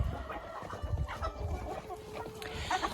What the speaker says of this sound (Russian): И куры с удовольствием это все кушают